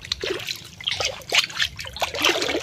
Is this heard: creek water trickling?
yes